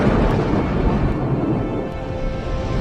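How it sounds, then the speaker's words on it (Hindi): Heavy rain pouring steadily with a deep thunder rumble underneath, a dense continuous wash of noise that holds loud and even throughout, no voices. "और अचानक बारिश की बूंदें जमीन पर गिरने लगी।"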